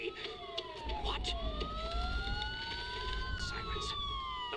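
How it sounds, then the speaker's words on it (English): Police sirens wail with sweeping, rising and falling tones, several overlapping at moderate distance over a low rumbling background, with brief sharp noises in between. "Sirens. The police."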